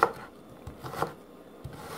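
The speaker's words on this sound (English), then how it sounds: "Then, we can start slicing the onion." A knife slices through an onion on a cutting board, a few soft chopping strokes spaced apart at close range, quiet and unhurried, with no talking.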